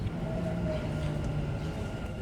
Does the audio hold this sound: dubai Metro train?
yes